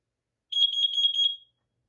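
A Kidde wireless smoke and carbon monoxide alarm gives a short shrill electronic beep sequence, a rapid pulsing tone lasting about a second, loud and close in silence.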